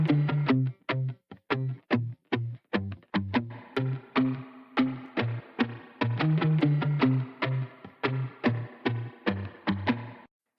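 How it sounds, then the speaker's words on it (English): Choppy, rhythmic electric guitar strums drenched in springy reverb, each short stab ringing briefly before the next, steady and upfront with no voices. "spring reverb on the guitars gives us this sound."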